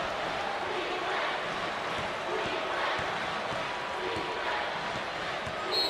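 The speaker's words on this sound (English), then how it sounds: "The crowd voices their approval." Arena crowd in the NCAA Basketball 09 video game cheers in a steady, dense roar that holds for the whole stretch, loud and continuous, with no clear break or single standout shout.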